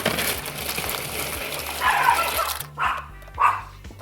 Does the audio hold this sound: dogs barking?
yes